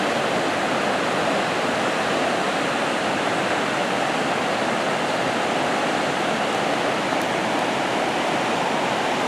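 Heavy river flow on the North Fork of the Yuba River, a loud, steady roar of rushing water that stays constant throughout with no voices.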